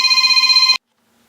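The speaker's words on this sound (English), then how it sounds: "Let me catch this phone call." A mobile phone ringtone trills loudly and close in a fast, pulsing electronic pattern, then cuts off abruptly partway through, leaving silence.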